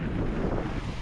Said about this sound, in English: It's probably windy so you can't hear me